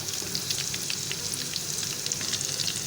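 Pieces of beef tikka boti fry in a pan with a steady close sizzle and scattered crackling pops, quiet and continuous with no voices.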